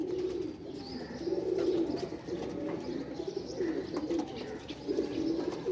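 Old-breed Ali wala pigeons coo in soft, repeated low phrases close by, a steady run of murmuring calls with faint chirps above and no talking.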